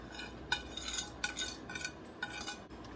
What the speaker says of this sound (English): all we do is whisk all this together until the cheese and butter is melted